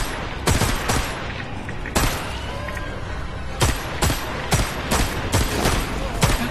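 Gunfire in Metro Awakening, a run of loud close shots fired in irregular bursts, single cracks and quick doubles, over a steady rumbling background with no talking.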